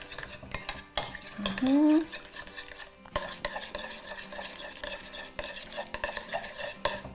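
A spoon stirs blue cheese vinaigrette in a bowl, clinking against the sides in scattered taps and scrapes, close and fairly quiet with no talking.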